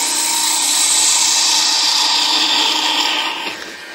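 A wood lathe faces off a walnut blank for an acorn cap. A loud, steady, high-pitched whine of the cut holds for about three seconds, then tapers off as the tool pulls away.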